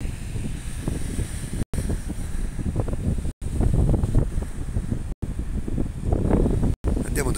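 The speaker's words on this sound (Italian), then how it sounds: "Questo vento si diverte" Strong wind buffets the microphone in a steady roar at Corralejo, Fuerteventura, in the Canary Islands, with brief silent gaps where the sound cuts out.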